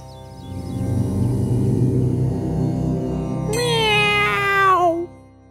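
A cartoon cat gives a loud, drawn-out, wavering meow near the end, over a steady low droning chant-like background.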